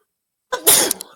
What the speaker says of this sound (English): I hate when that happens when you got to sneeze, but it's just not coming out and it takes forever